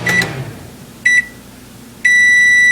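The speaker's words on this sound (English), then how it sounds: "Transfer the bowl with the curds in it to the microwave and microwave on high for" A microwave oven set on high, heating a bowl of cheese curds, gives a couple of short electronic beeps and then launches into a sustained steady tone, close and loud with no talk.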